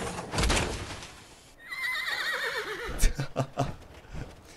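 A horse whinnies in Fallout 4 when horse-head armor is worn: one long wavering neigh rises and shakes. Before it comes a soft rustle, and after it a few sharp hoof-like clops and knocks.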